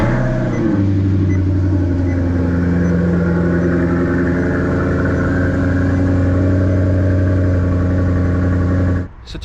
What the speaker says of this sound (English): let's do a cold start on this thing